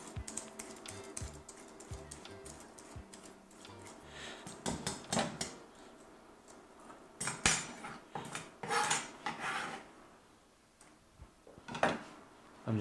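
Fresh ginger is finely grated in a home kitchen, giving a quick run of close, light scraping rasps with a few clinks of utensils and no talking.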